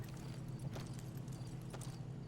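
Soft, muffled video-game horse hoofbeats clip-clopping at a steady walking pace over a low droning hum, quiet and somewhat distant.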